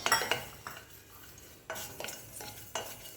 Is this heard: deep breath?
no